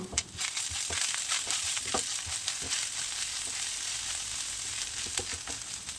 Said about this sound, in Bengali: পেঁয়াজটা একটু লাল লাল ভাজা হয়ে এলে হাফ চামচের মতো আদা রসুন বাটা দিয়ে দেবো নাড়াচাড়া করে